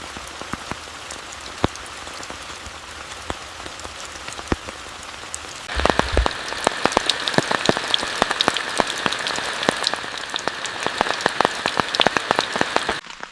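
Heavy rain pours in a forest, a steady hiss with dense patter of drops striking surfaces that grows noticeably louder and fuller partway through, with no voices.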